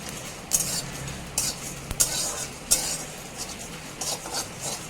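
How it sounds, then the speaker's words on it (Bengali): Coriander, clove, cardamom, cinnamon and dried chili dry-roasting in a pan, a spatula scraping and stirring them in about six short, gritty bursts over a low background, with no voices. "ধনে আর লবঙ্গ এলাচ দারুচিনি লঙ্কা সাথে কথা খুব ভালো মতো করে ভেজে নিচ্ছি"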